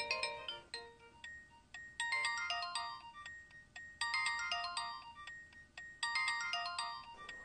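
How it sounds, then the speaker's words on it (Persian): A phone ringtone plays a bright, repeating electronic melody in regular bursts about every two seconds, fairly quiet and alone. "به تلفنت جواب ده"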